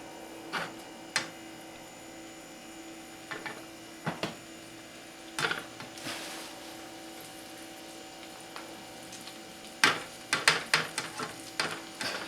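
A metal spatula works shrimp fried rice, tapping and clacking sharply at intervals over a faint steady hiss of frying, with a quick run of scraping clatters near the end, no talking.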